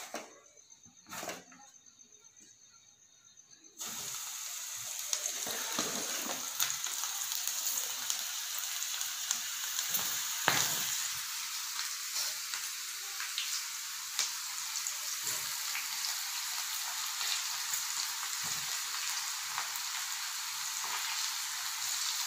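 Okra sizzles in hot oil on a gas stove for a crispy bhendi masala fry, a steady dense crackling hiss that starts abruptly and keeps going, with occasional stirring clicks over it.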